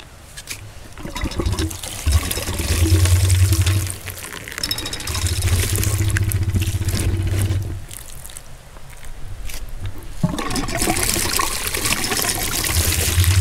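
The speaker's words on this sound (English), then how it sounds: "so you have to go make sure that all the dirt are gone" Freshly dug turmeric roots are washed in water, with steady close splashing and trickling that swells and eases in several long stretches, nearly continuous and without talk.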